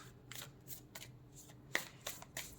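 A deck of cards is shuffled with a series of quick riffling bursts and soft snaps, close and quiet, before a card is drawn.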